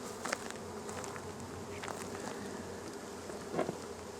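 A dense, close buzzing of honeybees swarms around an opened hive fitted with a queen excluder, steady and humming with occasional louder passes of individual bees near the listener.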